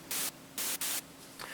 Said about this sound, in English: This is just a white noise.